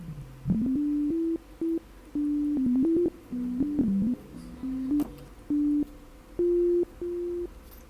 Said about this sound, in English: You're gonna be introduced to a sine sound.